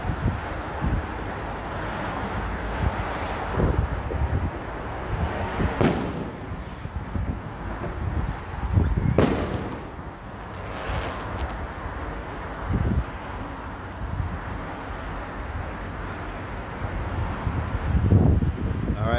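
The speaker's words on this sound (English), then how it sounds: "People shooting fireworks off the beach." Fireworks go off on Margate beach in England on a November night, a few dull booms and pops under heavy, constant wind rumble on the microphone.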